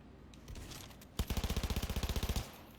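Automatic gunfire in Cyberpunk 2077, a rapid burst of about a dozen evenly spaced loud shots after a short lull of quieter game noise.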